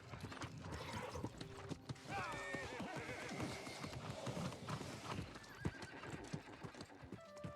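Horse galloping and neighing in the New World video game, with a steady clip-clop of hooves running throughout and a whinny rising over the hoofbeats, fairly close and even in level.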